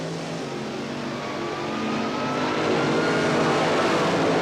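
Two sportsman drag racing cars launch side by side off the line at the 1977 NHRA Springnationals, their engines roaring and building steadily louder as they accelerate away.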